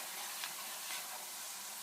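Chopped onion sizzles steadily in hot oil in a pot for a chickpea and potato curry, a close, even broadband hiss with a couple of faint brighter spurts and no talking.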